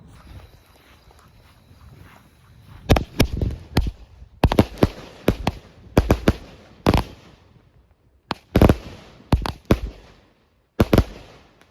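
Pixies consumer fireworks go off on a table before the Fourth of July, with sharp crackling pops in several dense bursts separated by brief pauses, loud and fairly close.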